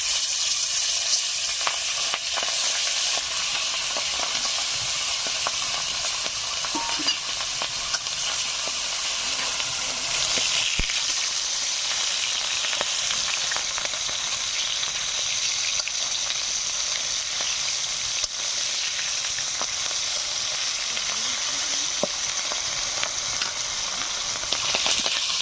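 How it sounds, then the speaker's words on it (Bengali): Fish fries in leftover oil in a pan, a steady, loud, close sizzle with a dense hiss and faint scattered pops that hold without break, no voices over it. "মাছ ভাজার তেল রয়ে গেছে, বাদ বাকি মাছগুলোকেও ভেজে নিচ্ছি।"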